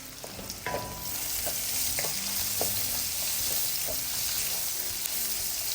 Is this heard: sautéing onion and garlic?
yes